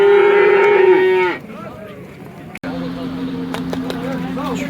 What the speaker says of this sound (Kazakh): Бұзаулар.